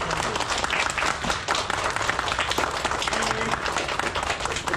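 An audience applauds Sara Pérez at a cultural event about a history and geography museum, giving a brisk, full round of clapping that holds steady throughout.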